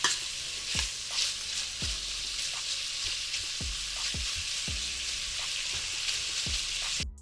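Meat sautéing in a Dutch oven pot for red beans and rice, giving a constant sizzle with rhythmic scraping strokes of a spoon against the pot, several sharp scrapes spread evenly across the stretch.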